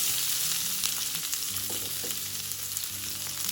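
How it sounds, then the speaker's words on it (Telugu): Dried red chillies and onions fry in a pan of oil for a hotel-style red chutney, a steady close sizzle with light stirring scrapes throughout and no voices. "ఎండుమిరపకాయలు 1 నిమిషం వేగాక దీనిలో ఉల్లిపాయలు వేసుకుందాం"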